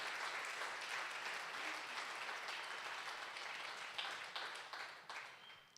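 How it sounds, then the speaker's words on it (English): A congregation applauds together, producing a full, even wash of clapping that holds steady before thinning out over the last seconds. "Let's give a round of applause for all that have served and all that have shown up."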